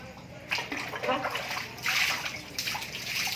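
Water splashes and sloshes in short bursts close by during a bath, with faint voices mixed in underneath.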